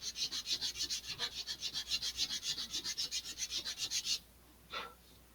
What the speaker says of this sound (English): I'm going to lower the angle at which I'm sanding here a little bit